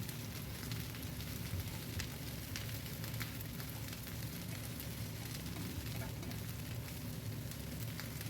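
Chopped onion with onion greens and vegetables fries in a pan, a soft, steady crackling sizzle throughout at low volume with no other sounds.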